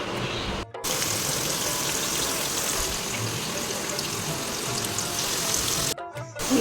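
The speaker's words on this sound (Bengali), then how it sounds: "এখানে কাঁকরোল ভাজা হবে" Loud, steady sizzling of spiny gourd frying in hot oil, broken by two brief silent gaps.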